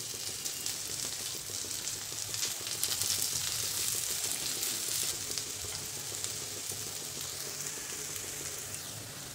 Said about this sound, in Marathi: भरपूर तेल घालायचं आहे म्हणजे लवकर भाजतो कांदा. छान तळला गेला पाहिजे.